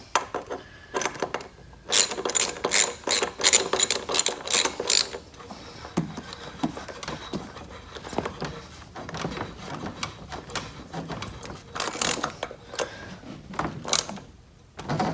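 A hand ratchet snugging down bolts while assembling a Venom 1500W E-Grizzly electric ATV, with rapid clicking pawl strokes in bursts and some clinks of parts between them.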